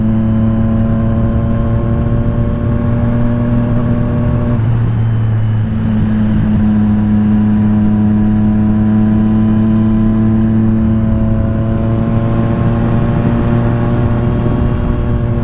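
A 2020 Triumph Street Triple RS motorcycle engine droning loudly and steadily with a strong harmonic whine, a brief dip as it downshifts midway, then pulling back up, heard from the rider's position with no talking.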